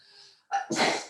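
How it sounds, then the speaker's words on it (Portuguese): A single loud human sneeze close by, with a short indrawn breath before the sharp burst, in a quiet indoor lecture setting. "estava com vontade de espirrar há muito tempo"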